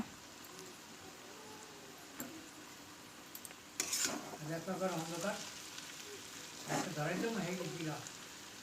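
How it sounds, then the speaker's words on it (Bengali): Chowmein stir-fried with vegetables in a pan: a low frying sizzle with a few clinks of a utensil against the pan, and a person talking over it in the second half. "তারপরে চাউমিনটা কিন্তু আমি সবজির উপরে দিয়ে দেবো"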